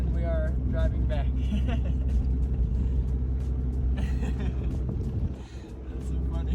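A boosted car drives along with a steady low engine rumble and drone throughout, while people talk over it inside the cabin.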